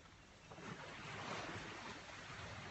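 Ocean waves wash steadily onto a shore in Thailand, a soft continuous rushing surf with slight wind noise, heard at low volume with no voices.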